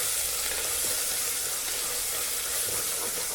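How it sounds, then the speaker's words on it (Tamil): Mint leaves sizzling in hot frying oil, a steady dense crackling hiss throughout at close range, with no talking. "கொஞ்சமாக புதினா இலை எண்ணெயிலே சேர்த்துக்கோங்க"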